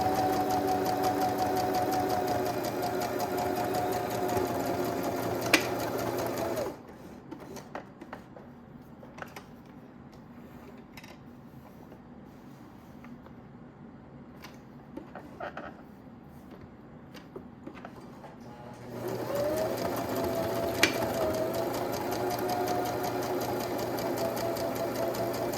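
A sewing machine stitches a mini wallet's lower flap with a steady, close whirring run, stops for a quiet stretch of small handling clicks, then starts up again and runs on.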